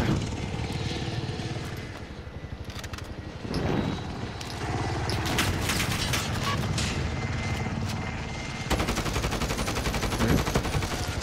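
Rapid bursts of automatic gunfire in Call of Duty: Modern Warfare rattle over a steady, droning helicopter rotor, growing louder and denser toward the end.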